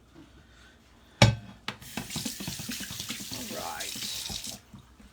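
Liquid from a salmon can pours and splashes into a kitchen sink after a sharp clatter, running steadily for a few seconds before stopping; a voice speaks briefly.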